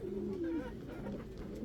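Pigeons or doves kept as breeding birds coo softly in a low, steady murmur close by, with a faint background hum and no voices.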